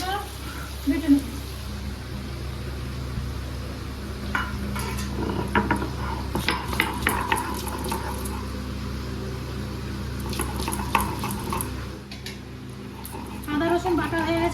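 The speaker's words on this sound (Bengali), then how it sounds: "এদিকে আদা রসুনটা বেটে নেব।" Ginger and garlic ground into paste on a stone in a village kitchen give a run of rough scraping and knocking strokes, close and irregular, over a constant background sizzle of onions frying in oil.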